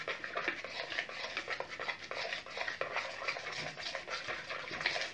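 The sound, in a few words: stirring and mixing homemade slime ingredients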